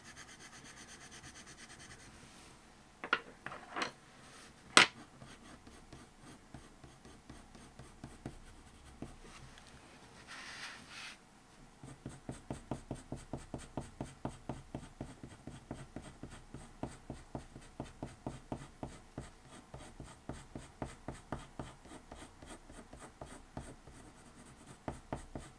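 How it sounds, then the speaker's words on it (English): Colored pencil burnishing raw umber onto paper gives a soft, close scratching that starts sparse, then turns into steady rhythmic back-and-forth strokes, quiet with no talking. "It's really laying down the colour now, kind of burnishing almost as we're adding down some of this colour."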